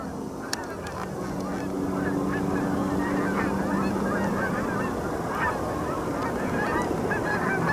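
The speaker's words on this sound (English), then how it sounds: "There's a lot of these geese." Scattered goose honks ring out over a constant rushing outdoor background, several birds calling at once, moderately close.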